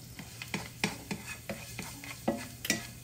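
Garlic fried rice stir-fried in a pan, with repeated spatula scrapes and stirring strokes over a steady low sizzle, close and moderately loud, no talking.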